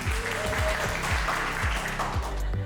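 An audience at an incubation day startup event applauds steadily as a pitch team is called to stand, a dense wash of clapping layered over a rhythmic, thumping music bed.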